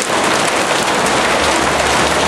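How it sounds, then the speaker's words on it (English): Hail pours down hard in a spring storm, a loud, dense, continuous clatter of stones striking surfaces nearby with no pause. "Some of this hail may come down strong enough to actually break a windshield."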